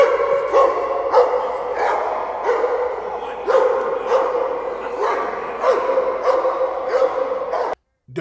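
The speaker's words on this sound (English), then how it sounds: "Keep that dog away!" A police dog barks repeatedly and loudly at close range in a steady, rapid series of sharp barks during a response to an intruder at a business site.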